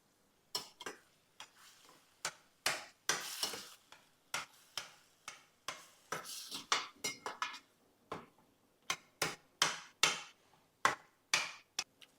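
Potato masala for crispy poori is stirred in a pot with a spoon, giving a run of irregular, close scraping clinks against the metal with short gaps between strokes.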